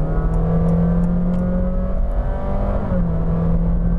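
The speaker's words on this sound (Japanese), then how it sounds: "アクセルを踏んである程度以上加速させるとき" A new Honda Fit's engine hums and rises steadily as it accelerates on a public road, with a smooth drop in pitch like a gear change near the end.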